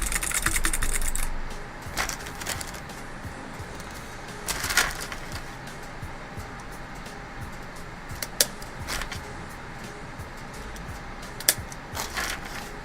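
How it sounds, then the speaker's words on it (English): Typing on a mechanical keyboard fitted with white box switches produces steady light clicky keystrokes at a moderate pace, close and continuous under faint room noise. "I have a keyboard full of them that you hear me typing on right now."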